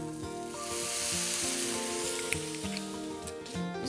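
Mushrooms sizzle in a pan with a glug of white wine, a bright, hissing fry close up under some faint tonal background sound, steady for a few seconds.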